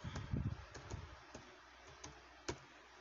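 Quiet, sparse keystrokes tap on a computer keyboard while entering text into an attribute table, a few irregular clicks with short pauses and no speech.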